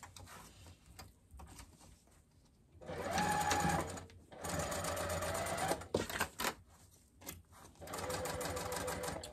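A sewing machine stitches the seam of a fabric car trash can in several close, loud bursts of rapid needle chatter, separated by short pauses with small clicks and handling noises.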